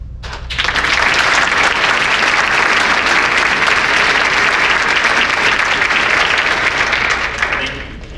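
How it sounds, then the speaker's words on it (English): Sustained applause from a large audience at a Border Patrol academy graduation award presentation, rising quickly, holding steady and loud for several seconds, then tapering near the end. "Please join me in giving the orders a round of applause."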